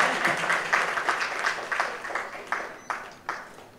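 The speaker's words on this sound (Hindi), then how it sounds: "तालियों के साथ स्वागत." Audience applause welcoming guests at a film tourism conference hall, a brief burst of many hands clapping that thins out into a few scattered, separate claps near the end.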